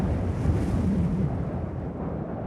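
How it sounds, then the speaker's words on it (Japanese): A strong wind in the Mahoutsukai no Yoru video game blows high up on a roller coaster 48 metres above the ground: a dense, roaring rush with low tones beneath that holds loud, then eases slightly toward the end. "強風が髪をさらう。"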